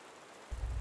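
Soft, steady patter of rain falling at night in the desert, a faint even hiss that gains a low rumbling swell partway through, with no voices.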